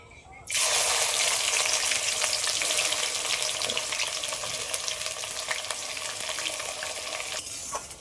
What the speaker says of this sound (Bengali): এবার আমি এই সময় থেতে করে রাখা রসুন আর কাঁচা লঙ্কা এগুলো দিয়ে দেবো